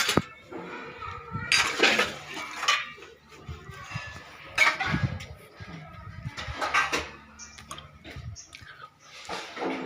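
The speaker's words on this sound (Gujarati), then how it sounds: "વાસણ ધોવાનું ચાલુ" Dishes, pots and utensils being washed by hand, with repeated clinks and scrapes of metal ware in bursts, fairly close, with a voice speaking faintly in the background.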